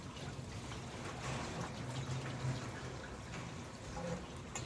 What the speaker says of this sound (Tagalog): Tuloy-tuloy ang tubig.